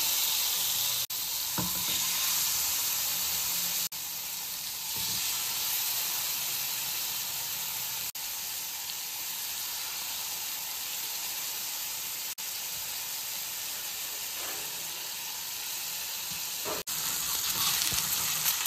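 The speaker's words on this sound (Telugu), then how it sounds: "ఈ ఆయిల్తోనే ఇది ఫ్రై అయిపోద్ది. చూడండి, ఒక పీస్ పైన వేస్తున్నాను." Chicken pieces frying in butter and a little oil on a flat tawa, a steady loud sizzle throughout with brief crackles and stirring disturbances, no talk.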